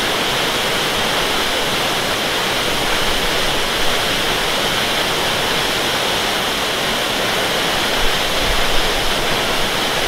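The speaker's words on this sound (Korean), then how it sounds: "이제 토왕성 폭포에 다 왔습니다." Towangseong Falls in Seoraksan roaring close by, a loud, unbroken wash of rushing water that stays steady from start to finish.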